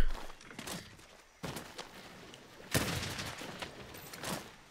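Gunfire from a gun in Monster Hunter World comes as a few sharp, loud reports spaced out over a low game ambience, each followed by a brief rumbling decay.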